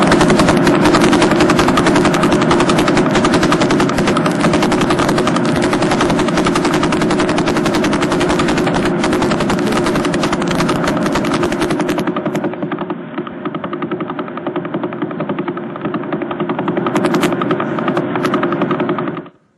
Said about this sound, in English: That is the pulsar in the constellation of Vela.